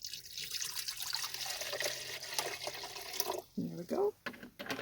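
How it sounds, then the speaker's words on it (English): Water splashes and gurgles steadily into a kettle inside a vehicle, where the kettle runs off a 12-volt socket. The pour is fairly quiet under background noise, and a few louder gurgling bursts come near the end. "so I've got my kettle here, and I'm going to put some water in that."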